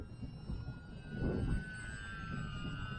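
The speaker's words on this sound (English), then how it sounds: "back on throttle. It is very predictable, very controllable airplane" Electric motor of a Fun Cub 1100 mm EPO RC airplane flying overhead on a windy day, a faint steady whine that swells briefly as it passes closer, then settles again.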